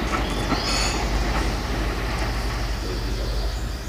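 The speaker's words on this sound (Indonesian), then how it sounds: "Kita akan melintas KRL JR203109 dari arah Serpong menuju stasiun Rawabuntu" A KRL Commuter Line electric train, JR 203 series set 109 running from Serpong toward Rawabuntu station, passes a sharp S-curve with a loud, close, continuous rumble and high wheel squeal along the bend.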